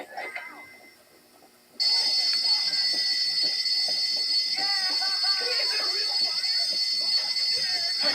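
School fire alarm in the video game Bully bursts into a loud, steady ringing after a quiet moment and keeps going, with muffled game voices and chatter underneath.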